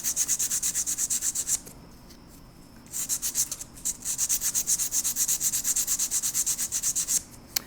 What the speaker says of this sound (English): these sanding sticks. So let me get one of those out.